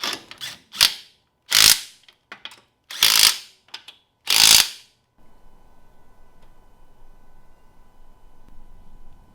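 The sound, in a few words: ratchet removing front bumper on BMW E36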